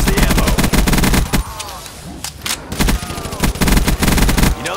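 Rapid, loud gunfire in Call of Duty Black Ops 3 zombies mode, dense bursts of automatic fire hammering close by with a brief lull in the middle, under occasional talk.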